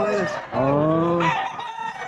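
A rooster at the Bocaue pet market crows loudly and close by, one drawn-out crow with brief clucking before it, while market talk goes on faintly in the background.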